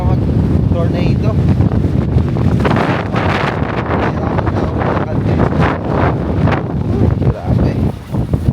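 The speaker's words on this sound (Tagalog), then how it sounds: "iba yung hangin, parang mag tornado" Strong gusting wind buffets the microphone outdoors on a blustery Thanksgiving day in the USA, a loud continuous roar with rumbling low-end bursts, while people talk over it.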